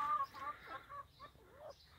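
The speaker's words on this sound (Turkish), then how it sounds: "Tavuk yumurtlamış mı?" A laying hen clucks softly in a garden coop, a few short, close, quiet clucks with brief pauses between them.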